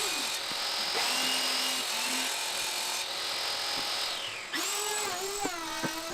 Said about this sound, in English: Finally able to use the table saw in order to cut some of this plywood down